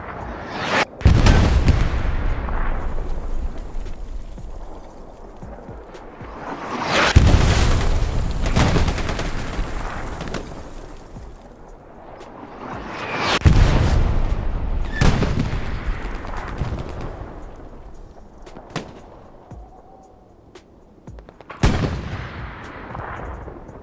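Heavy booming gunfire and artillery-like blasts in Hell Let Loose on the Driel night map, several loud thunderous reports spaced several seconds apart, each rolling away into a long rumbling tail.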